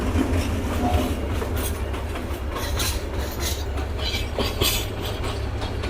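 A train rolls along rails near Dhaka, a continuous rumble with a low steady drone and rhythmic clickety-clack of wheels over joints, heard close and alone.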